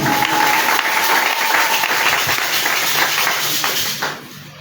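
A church congregation applauds and acclaims during a sermon, loud sustained clapping and voices filling the hall, fading out near the end.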